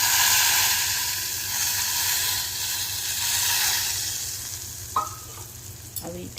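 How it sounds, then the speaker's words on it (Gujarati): Hot oil tempered with mustard seeds is poured over garlic chutney, producing a loud, close sizzle that gradually subsides, followed by a couple of light clinks near the end, with no talking. "હવે ફટાફટ એને ગરમ તેલને આની ઉપર ધીમે ધીમે એડ કરતા જઈશ"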